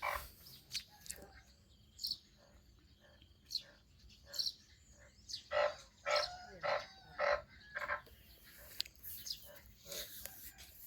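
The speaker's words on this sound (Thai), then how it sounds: "มานอนพังเสียงอึ่ง ฮุบออกฮุบเขา" Banded bullfrogs call after night rain, a series of close, moderately loud croaking calls repeated at irregular intervals, clustering more thickly midway before thinning out.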